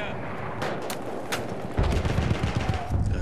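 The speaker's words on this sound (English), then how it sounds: "Oh, I'm getting shot at." Gunfire in the Battlefield 1 video game: sharp cracking shots at the start, then heavier booming bursts of rapid fire with explosive low thumps, loud and dense toward the end.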